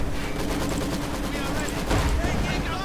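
Rapid machine gun fire rattles in a dense, continuous stream during a Company of Heroes 2 video game battle, loud and steady with overlapping shots and no clear voices.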